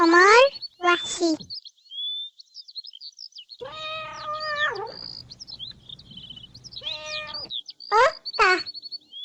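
A cat gives several clear, close meows in short separate bursts, with small birds chirping softly in the gaps between them.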